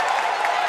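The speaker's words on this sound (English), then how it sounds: "The crowd is on their feet" A basketball crowd at an IHSA Class 3A boys sectional final between Morton and Kankakee cheers and applauds as a steady, dense roar, loud and continuous through a very brief moment.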